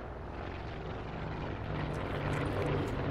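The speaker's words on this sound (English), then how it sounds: "There's a plane right above me." A plane flying overhead in a battle royale video game delivering a supply drop: a continuous loud propeller-engine drone that holds steady and swells slightly toward the end, with no talk.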